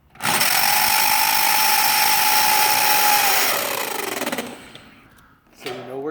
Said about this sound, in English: you drill into the pilot hole with your hammer drill